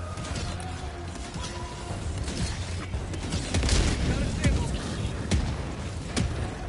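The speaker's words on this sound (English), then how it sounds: "This mortar is putting in overtime right now." A mortar fires repeatedly in the game Helldivers: a rapid string of heavy thumps and crackling blasts rolls over dense battle noise, with people talking over the action.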